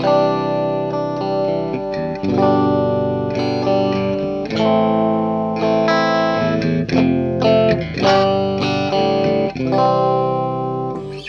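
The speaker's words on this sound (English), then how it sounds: "You want to get some clean tones, something like this." Clean electric guitar through a Marshall 1987x tube amp head, playing chords and single notes, bright and sustained with a warm amp tone, steady and fairly loud with no voices.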